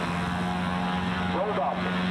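An airplane lands at an air show, heard as a steady, moderately loud engine and propeller drone that carries through the whole moment, with a brief voice faintly present.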